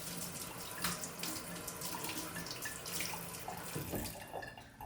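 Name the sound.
water running from a tap to wet hands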